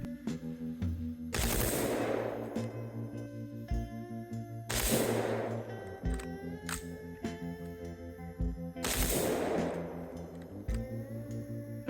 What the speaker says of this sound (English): I was getting 2 or 3 round bursts and then a dead trigger with an empty chamber.